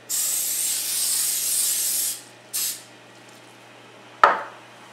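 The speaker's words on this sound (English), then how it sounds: "We're going to spray this olive oil all around it." A can of olive oil cooking spray hisses in a long burst into a bowl, followed by a short second spray and a sharp click.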